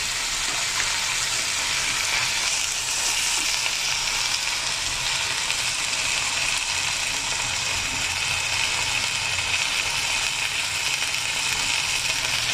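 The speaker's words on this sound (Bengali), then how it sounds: "আমি এখানে অর্ধেক চামচ রসুন বাটা দিয়ে দিচ্ছি, আর অর্ধেকের একটু কম আদা বাটা দিয়ে দিচ্ছি।" Garlic and ginger paste sizzles in hot oil in a pan while pabda fish bhuna is prepared, giving a continuous, loud, close frying hiss with fine crackling that holds steady for the whole stretch, with no voices.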